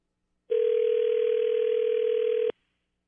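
A steady electronic telephone tone sounds alone for about two seconds, loud and unbroken, then cuts off abruptly into silence.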